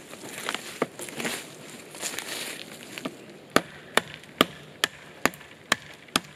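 Sharp chopping strikes of a Fallkniven S1 knife blade, about eight crisp hits spaced roughly half a second apart, close and distinct after a few softer handling noises.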